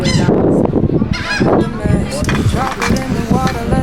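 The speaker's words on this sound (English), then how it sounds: "There's like birds flying like literally everywhere" A flock of geese honks loudly and continuously near an island seen from a cruise, with overlapping close calls over a busy, noisy background.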